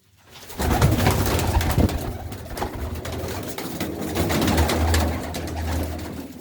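Pigeons in a large loft coo steadily and continuously, a dense chorus of low throaty calls that stays loud throughout, with some rustling and movement among the birds.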